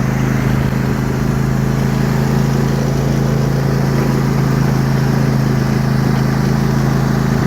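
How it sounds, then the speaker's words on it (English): An old lawnmower engine runs outdoors in a backyard with a loud, steady, close drone that holds an unbroken tone and never changes pace. "But this old lawnmower gets the job done."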